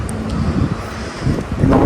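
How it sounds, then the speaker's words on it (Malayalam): Strong wind buffets a microphone outdoors during a DJI Mini 4 Pro drone setup, a loud, steady rumbling roar that swells near the end with no talking. "ഭയങ്കര കാറ്റാണ്, ഒരു രക്ഷയില്ല."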